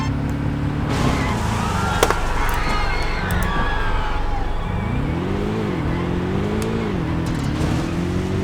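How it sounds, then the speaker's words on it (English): A car is driven into a wreck in an old DOS or Windows 95 racing game: a steady synthesized engine drone with revving pitch swings, plus sharp crash and impact clicks, loud and continuous. "Let's wreck the car."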